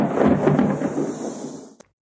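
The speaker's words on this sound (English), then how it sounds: "Can you hear the thunder?" Deep rolling thunder rumbles loudly in one sustained peal that fades out over about two seconds, ending with a brief click, with no voices present.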